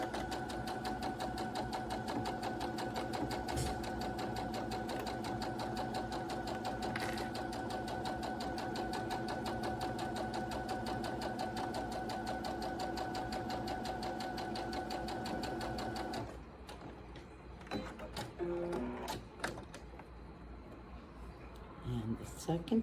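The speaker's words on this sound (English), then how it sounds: "I will be stitching a 1/2 inch seam along the top where we clipped it on each of the pieces." A sewing machine stitches a half-inch seam along the top edge of fabric pieces. It gives a fast, steady mechanical whir for about sixteen seconds, then stops, followed by scattered clicks and handling sounds.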